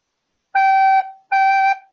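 Two clean, sustained recorder notes on G, played one after the other with a short gap, clear and alone.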